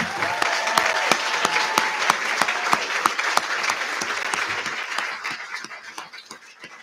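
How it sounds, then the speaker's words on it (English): At a master's degree commencement ceremony, an audience gives a hearty round of applause, with dense clapping and a few sharp individual claps standing out, gradually thinning toward the end. "one more round of applause, please,"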